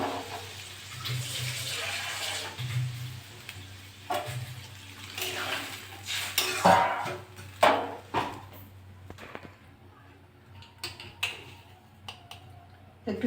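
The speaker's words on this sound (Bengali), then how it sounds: "আমি এবার জল দিয়ে দেবো।" Water is poured over bitter gourd, potato, pumpkin and drumstick stalks in a pan, with splashing and gurgling that swells midway, then irregular clatter and softer trickles.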